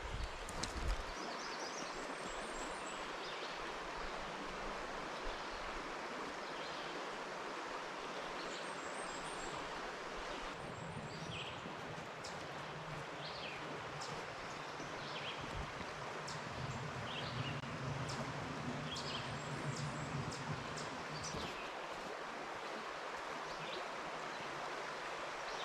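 Laurel Hill Creek flows below a cliff along a hemlock forest trail in Laurel Hill State Park, a steady broadband rush of water heard from above and some distance off, with no voices.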